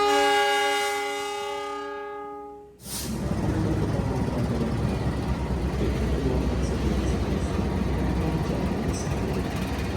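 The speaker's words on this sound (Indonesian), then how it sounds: "Di sini ada kereta api Gaya Baru Malam Selatan dari stasiun Pasar Senen tujuan ke stasiun Surabaya Gubeng yang akan berangkat" A sustained tonal horn sounds, then gives way to a loud, continuous rolling rumble as the Gaya Baru Malam Selatan passenger train runs at Purwokerto railway station in Indonesia. The rumble is steady and close through the rest.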